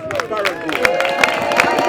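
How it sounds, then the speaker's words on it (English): A crowd at an outdoor blue plaque unveiling in Ladbroke Grove applauds steadily with dense, bright clapping, while a few voices and cheers mingle in the background. "let's give a big applause"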